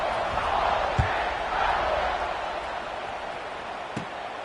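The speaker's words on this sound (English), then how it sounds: "They're set to kick it off, and this crowd now ready to get behind them." A packed football stadium crowd at Alabama vs. Ole Miss roars steadily before kickoff, a loud, continuous wash of cheering with a couple of sharp thumps cutting through.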